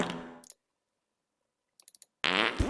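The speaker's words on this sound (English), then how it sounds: "And of course, the fart sounds." Fart sound effects from the space station game Goonstation play as brief bursts separated by silence, with a few quick clicks between them, loud and close with no voices.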